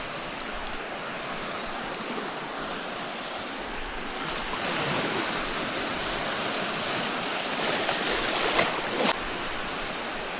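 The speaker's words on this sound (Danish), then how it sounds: "hvor vi kan se bølgerne, de sådan knækker ind over alle de store sten" Waves break over large stones on a reef off the Gotland coast, a continuous rushing wash with rising surges and a few louder crashing bursts near the end, and no talk.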